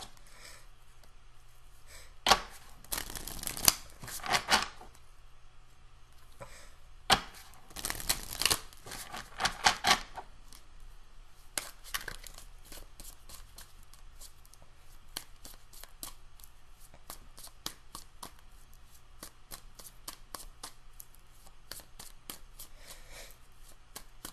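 Tarot cards are shuffled in a few quick riffling bursts, followed by lighter scattered taps and rustles, close and fairly quiet with no talking.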